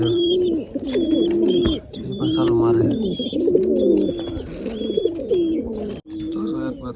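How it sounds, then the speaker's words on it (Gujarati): Pigeons coo in repeated rolling phrases close by while drinking and bathing in water, the calls recurring every second or so with a voice talking in between. "કબૂતર બેઠા છે પાણી પાણી પીને"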